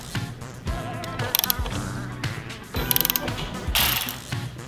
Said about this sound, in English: You got that ratchet in here? Three bolts